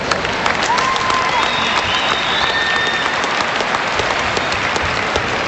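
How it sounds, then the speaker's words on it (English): An arena crowd at the 2005 Red River vs Grand Forks Central high school state championship hockey game applauds steadily, with dense, even clapping sustained throughout and a few faint whistles. "How about a round of applause for these folks?"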